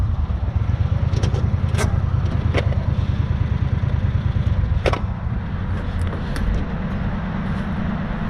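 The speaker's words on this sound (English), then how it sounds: "I gotta shut the tractor off too." A tractor engine runs steadily and close by at a constant idle, with a dense low rumble and a few brief sharp clicks or knocks layered over the top.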